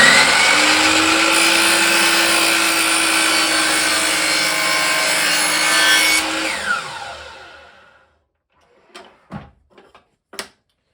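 A hand saw cuts through wooden molding for an 18th-century Newport secretary reproduction, a steady rasping stroke sustained for about six seconds before trailing off, followed by a few short knocks of the workpiece being handled.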